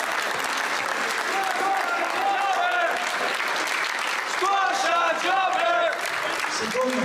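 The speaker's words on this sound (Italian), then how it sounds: "quindi fategli un applauso" Crowd at an Italian professional wrestling show applauds steadily, with cheers and shouts rising through the clapping and growing louder toward the end.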